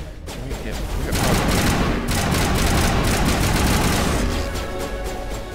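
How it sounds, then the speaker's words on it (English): Assault rifle fire in the video game Mass Effect, a loud continuous burst of rapid automatic shots that holds for several seconds before easing, with a voice faintly under it. "even a Geth destroyer can't handle this assault rifle"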